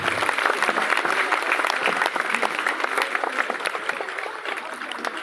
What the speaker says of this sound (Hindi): जोरदार ताली बजा करके हम उनका स्वागत करते हैं।